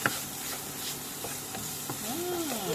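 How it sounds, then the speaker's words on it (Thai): Pork and garlic stir-frying in a hot pan, a continuous sizzle broken by scraping stirs of the spatula, close and moderately loud, with no talking. "ผัดให้มันสุกพอสุก ถ้าสุกมากมันก็จะแข็ง ให้มันพอสุกนะครับ"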